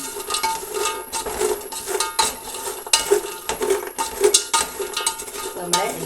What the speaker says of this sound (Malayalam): നമ്മൾ ജസ്റ്റ് ഒന്നും കൂടി ഇളക്കി കൊടുക്കുകയാണ്